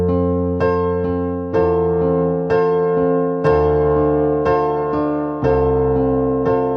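Pre-chorus of a song played on solo piano as an easy accompaniment, with loud, clear chords struck in a slow steady pulse over descending octaves in the left hand.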